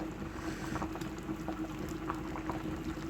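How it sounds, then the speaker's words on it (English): A pot of meatless vegetable soup simmering, with a low, steady bubbling and hiss and faint irregular pops, quiet and continuous. "Everything simmer down in this one"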